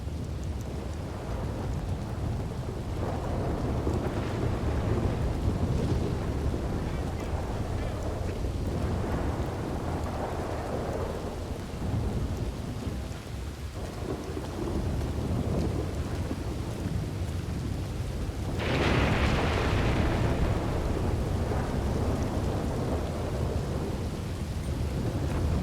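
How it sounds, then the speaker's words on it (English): Heavy rain pours steadily throughout a thunderstorm, with loud rolling thunder rumbling repeatedly and a sharper crack near the end, close and continuous with no talking. "We had a storm like this the other day."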